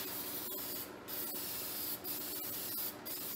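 Rust treatment is sprayed onto a panel of a 1953 Chevrolet under rebuild, heard as three short hissing spray bursts about a second apart, up close over faint background noise.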